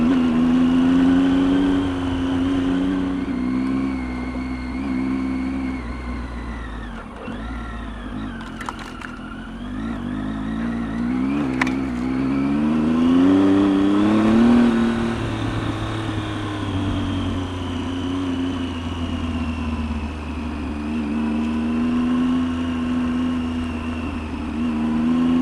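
A Triumph Tiger XCx motorcycle rides down a dirt road, its engine droning steadily with rising and falling pitch as the rider eases on and off the throttle, close and continuous, with wind rushing throughout and no speech.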